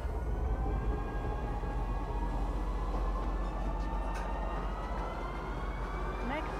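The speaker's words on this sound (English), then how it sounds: "Just enter the train. You can see it will depart in 7 seconds here at the top." A train pulls away from a station in Lorville in the video game Star Citizen. A steady low rumble and faint rising tonal whines run unbroken, fairly loud and even throughout.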